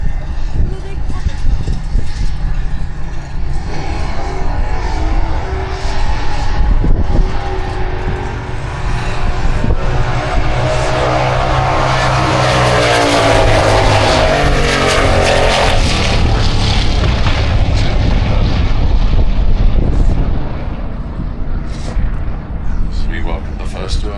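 Pro Doorslammer drag racing cars roar in a loud, continuous engine blast that swells and fades over about twenty seconds, with an announcer talking over it.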